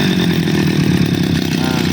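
A grass cutter's small petrol engine runs steadily after choke and throttle are set, a loud, continuous buzzing drone with a slightly uneven, rattly pulse throughout.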